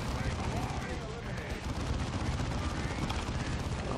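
Heavy weapon laying down suppressing fire in the video game Dawn of War 2, a continuous dense roar of rapid gunfire and blasts with no pauses, mixed with battle noise and a voice talking.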